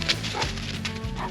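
An eight-year-old Labrador retriever on a bird hunt lets out quick eager barks and yips mixed with whimpers, close and fairly loud, with no talking.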